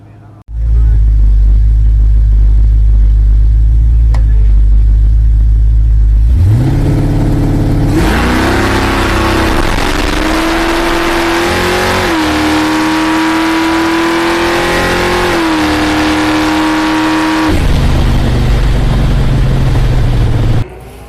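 A 1979 Camaro drag car idles with a deep rumble, then its engine roars for about ten seconds of hard acceleration with rising, stepping pitch on a drag strip run, before easing back to a low idle.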